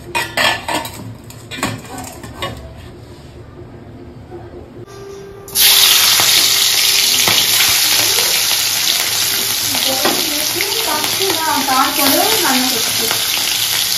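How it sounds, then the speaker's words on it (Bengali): Prawns drop into hot oil in a pan and burst into a loud, continuous sizzle after a quieter stretch of kitchen clatter and faint talk, with utensil scrapes and stirring over the steady frying hiss. "চিংড়ি মাছটা এখনো ভাজা হয়নি, নষ্ট হয়ে যাবে।"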